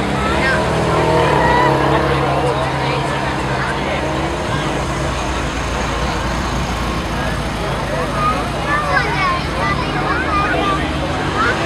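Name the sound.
boat motor running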